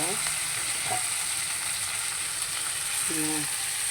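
Dosa batter sizzles steadily on a hot dosa pan, a continuous bright frying hiss with a few faint clinks of utensils in a home kitchen.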